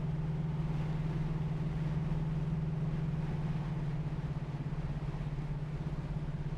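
A 1984 Chevrolet C10 cruising at about 50 mph, heard from inside the cab as a steady low engine drone with constant road rumble, smooth and unbroken.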